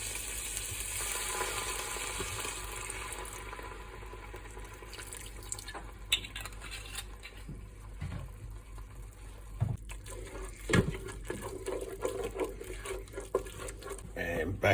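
Red wine hits a hot pan coated with cooked tomato paste while making chili, giving a brisk sizzle and bubbling hiss, followed by scraping and stirring clinks, with a person speaking at times.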